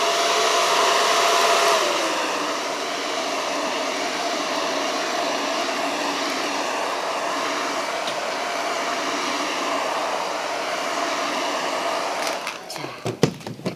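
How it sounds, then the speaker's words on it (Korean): A hair dryer blows steadily and loudly at close range to dry glue, a constant whooshing hum, ending with some clicks and handling noises. "이럴 때 한 번 더 정확하게 말리기 위해서는 드라이기를 드라이기로 한번 말려주면 좋겠죠."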